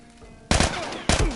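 Assault rifle fire in The Last of Us video game: two sharp, loud bursts of rapid shots about half a second apart after a quiet lead-in.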